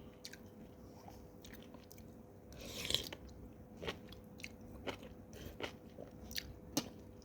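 Quiet, close chewing of fresh Thai bamboo shoot curry, with soft crunches and bites scattered irregularly over a low background.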